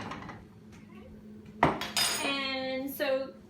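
A bowl and spoon handled in a home kitchen, a sharp clatter followed by two ringing clinks of dishware and cutlery, close and fairly quiet, with no speech.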